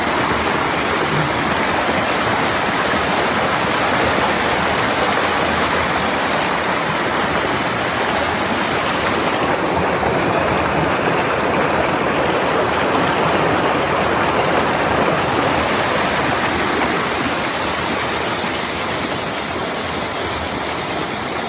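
Cold mountain water pours and splashes steadily where people are bathing in the mountains, a loud, continuous broadband rush lasting the whole stretch with no voices over it.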